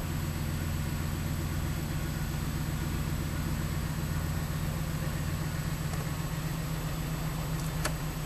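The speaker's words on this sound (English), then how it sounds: "Fire up the vehicle." A vehicle engine runs at a steady idle with a constant low rumble and hum, fairly loud and unbroken, with a faint click near the end.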